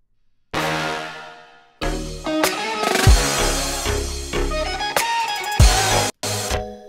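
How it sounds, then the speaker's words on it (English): Three-layer synth horns, one a stock Serum preset, blare through the drop of a contest remix, loud and dense over punchy bass and drums with short stops and restarts, close and without voices. "The next thing here, we have these horns in the drop."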